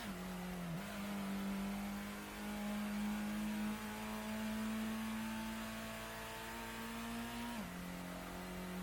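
A green car in the original Gran Turismo, in a two-lap simulation-mode time attack, holds a loud, steady, high engine drone, with sharp dips in pitch at two gear shifts.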